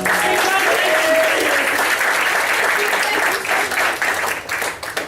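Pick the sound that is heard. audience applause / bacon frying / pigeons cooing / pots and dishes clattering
audience applause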